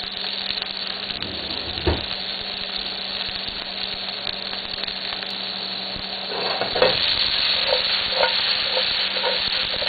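Bell peppers for fajitas frying in a very hot pan, a loud steady sizzle close up with occasional spatula scrapes and tosses, growing busier toward the end.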